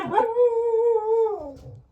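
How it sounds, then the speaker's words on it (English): A part-beagle dog lets out one close, sustained howl that holds a steady pitch and then drops away at the end, with no voices. "my dog is like part beagle"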